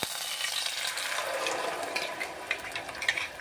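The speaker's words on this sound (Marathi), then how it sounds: "जे आपण पाणी काढलेलं आहे तेच पाणी आता आपण वापरणार आहोत। पाणी टाकून घ्यायचं।" Water poured into a mixer jar holding blended beetroot, carrot and tomato for soup, a soft continuous splashing rush close by that trickles and gurgles toward the end, with no voices.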